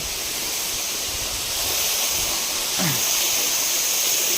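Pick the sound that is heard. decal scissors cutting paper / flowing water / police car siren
flowing water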